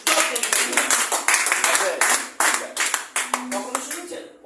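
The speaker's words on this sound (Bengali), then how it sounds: "জোরে একটা হাততালি চাই।" An audience at a stem-cell health talk claps loudly in dense, uneven bursts for several seconds, with voices calling out over the applause before it fades.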